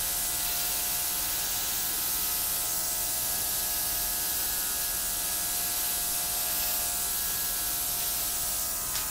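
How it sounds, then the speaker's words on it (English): A small airbrush air compressor blows acrylic pour paint in one continuous steady hiss with an underlying hum, close and even for the whole stretch, with no talking. "I'm going to get my little air compressor. It's an airbrush."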